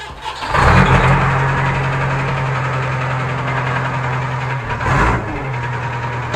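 A JCB 3DX backhoe loader diesel engine cranks and catches, then settles into a loud, steady idle with a brief surge in revs near the end.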